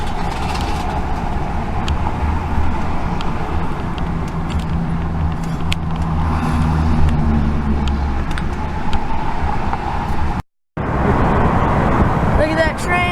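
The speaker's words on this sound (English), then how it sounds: "we were driving in some pretty deep traffic" Steady road and traffic rumble heard from inside a moving car on a drive toward the 8th Street Viaduct in Cincinnati, with continuous low engine and tyre noise, a brief dropout near the end, and people talking over it.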